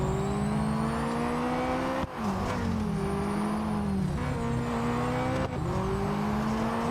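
Race car engine in the video game Real Racing 3, a loud steady drone with harmonic pitch sweeps as it shifts gears twice, dipping sharply and climbing again, with no talk over it.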